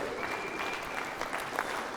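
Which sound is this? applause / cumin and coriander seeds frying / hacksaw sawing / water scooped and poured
applause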